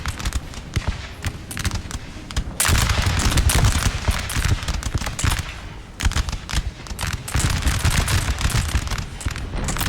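Musket volleys and artillery fire in Napoleon: Total War, dense crackling gunfire rolling continuously with heavier booming surges, loud and sustained throughout.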